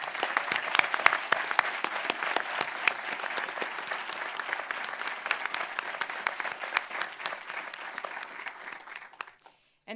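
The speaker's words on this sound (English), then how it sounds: "let's give them a round of applause so they can hear it" A ceremony audience at the Pentagon gives the Navy Band and Ceremonial Guard a round of applause: dense, sustained clapping that continues for several seconds before cutting off abruptly.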